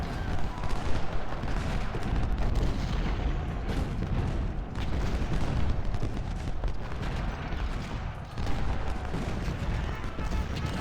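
Gunfire and artillery booms from the Civil War strategy game Ultimate General: Civil War, a dense continuous rumble of volleys and blasts.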